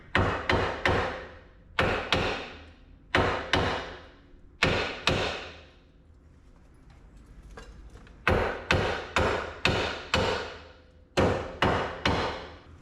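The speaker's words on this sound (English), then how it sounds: "They want us to hit the knuckle with a hammer." Metal rings out under repeated hammer blows on a 2005 Nissan Titan steering knuckle, struck in quick bursts of three or four hits with short pauses between groups, loud and close.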